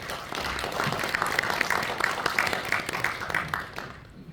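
An audience at a blockchain association anniversary ceremony applauds a guest coming up to speak, with dense, moderately loud clapping and distinct hand strikes that fade away at the end.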